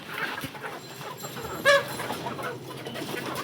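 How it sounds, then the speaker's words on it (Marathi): Chickens kept on a village farm cluck faintly outdoors, with one short, sharper cluck standing out against quiet background noise. "या कोंबड्या पाळून ठेवले रे."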